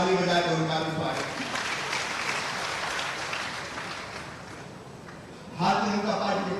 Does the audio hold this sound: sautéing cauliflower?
no